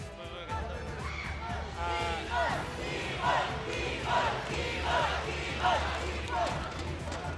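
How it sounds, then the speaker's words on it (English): A large esports crowd at the M5 World Championship knockout stage roars and cheers continuously, with repeated rhythmic surges of shouting rising over a steady, dense wash of noise. "The crowd is cheering for Keyboy like he's going to a grand finals"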